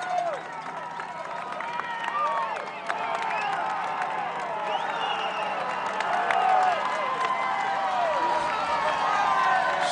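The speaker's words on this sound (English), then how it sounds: "Still massive crowds turning out on the second stage of the Tour de France" Massive roadside crowds on the second stage of the Tour de France keep up continuous cheering, whooping and clapping, with voices shouting throughout.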